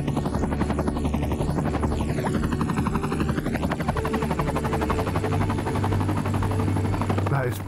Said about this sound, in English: There they go, helicopter's on the move.